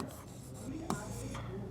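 Pen or marker scratching on a surface while a coordinate geometry solution is written, soft continuous strokes and light taps, close up, with faint talk underneath.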